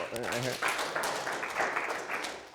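An audience claps during a talk on diet and social security. The applause is a dense, fairly quiet spread of clapping, with voices over it at the start.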